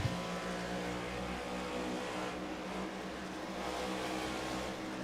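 A race car drives back onto the track after a wreck, its engine a steady droning roar heard from a distance that holds fairly constant throughout, without talk.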